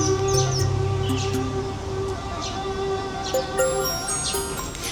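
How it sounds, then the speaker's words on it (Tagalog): Birds chirping and calling in Nan Lian Garden, Hong Kong, with several short bright tweets and whistled notes over a constant outdoor background hum, moderately close and clear. "narinig niyo ba yung huni ng ibon?"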